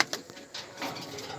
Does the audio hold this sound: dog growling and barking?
no